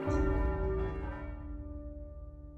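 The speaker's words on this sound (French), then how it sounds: "toutes les cloches de Paris sonnent" The large church bells of Paris ring together with a rich, sustained tone, loud at first then decaying and lingering as the peals fade slowly.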